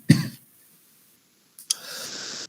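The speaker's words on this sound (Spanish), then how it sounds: "todavía estoy tosiendo" A single sharp cough with a throat-clearing rasp from someone speaking during an online presentation, followed by quiet and then a faint rustle of background noise.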